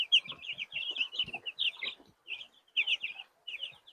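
Broiler chicks peep in quick bursts of high, thin chirps, close and fairly quiet, with soft pecking taps in between.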